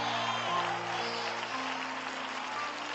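An audience at a sermon claps in a steady wash of applause that continues evenly throughout, moderately loud and slightly distant.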